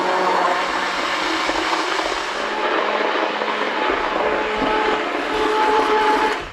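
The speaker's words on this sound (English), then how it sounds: "And a stick blender, easy peasy." Stick blender pureeing thick chicken soup in a homestead kitchen, a loud continuous whirring buzz running steadily for several seconds, close by and with no talk over it, then cutting off.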